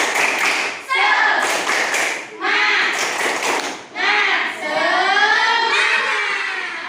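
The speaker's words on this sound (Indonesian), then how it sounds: "Yuk, 1, 2, 3, tepuk semangat." A school class performs the rhythmic tepuk semangat spirit clap, with patterned bursts of claps and taps alongside chanting voices in short phrases separated by brief pauses.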